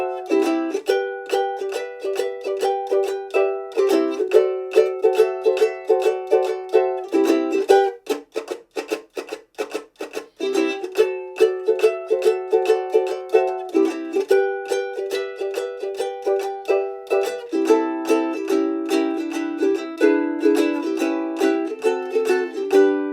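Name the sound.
ukulele instrumental section of a song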